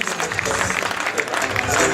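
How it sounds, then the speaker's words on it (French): Crowd applause for a godmother at an excellence dinner, dense steady clapping from many people that holds for the whole stretch. "Les applaudissements pour votre marraine."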